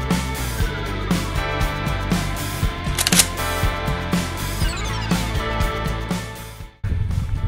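An Agfa Optima 200 Sensor film camera takes a photo outdoors on a mountain, with repeated small mechanical clicks and whirs against steady background noise, then a sharp pause near the end.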